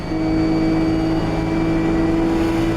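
A Nissan GT3 race car engine in the Automobilista 2 racing game holds a loud, steady high-revving drone with a constant pitch, heard alone at full volume.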